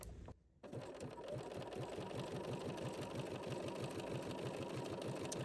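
A sewing machine with an overlock foot stitching a narrow zigzag, starting after a brief pause and then running in a steady, rapid mechanical chatter, close and fairly quiet.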